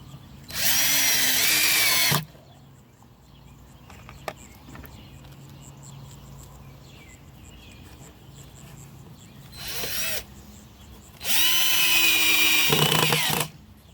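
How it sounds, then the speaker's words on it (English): A power drill bores a well for a community garden in two long, loud whirring bursts with a shorter burst between them, and quiet handling noises fill the gaps. "Luckily, we are blessed with the technology of a drill to help us along our way."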